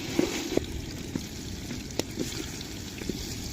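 Oil sizzling in a pan while vegetable khichuri cooks, a soft continuous bubbling hiss broken by faint irregular pops and crackles, steady and fairly quiet with no talk.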